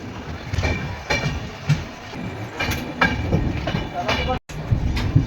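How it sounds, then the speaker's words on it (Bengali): The Shipra Express pulls out of Asansol station, heard from on board as a steady rumble with rhythmic clatter and occasional sharper knocks, while a person talks over it. "ফাইনালি ট্রেন আমাদের আসানসোল স্টেশন থেকে ছাড়লো"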